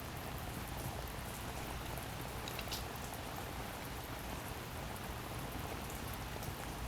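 Steady rain falls outdoors as a soft, even hiss of drops with no break, faint and uniform throughout, no voices present.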